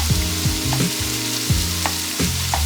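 Vegetables frying in a pan for a stir fry give a steady close sizzle, with a few soft knocks of a utensil stirring them and no talking.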